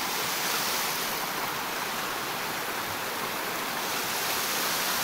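A hydraulic ram pump pushes water into a tank, giving a steady, loud, even rush of flowing water with no voices and no breaks throughout.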